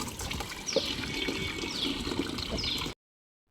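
Water splashes and trickles steadily while a young child is bathed at home, a continuous wet wash of moderate loudness with small spills, ending in a brief pause.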